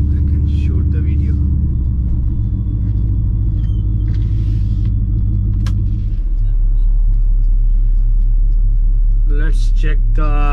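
A custom bagged Chevy C10 square-body truck drives with a steady, deep engine rumble and drone throughout, close and loud, with a brief voice near the end.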